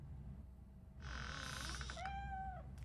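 A cat meows once in RoboCop: Rogue City, a drawn-out, tonal cry that rises and bends over about a second, heard alone above a low ambient hum after a brief buzzy chirp.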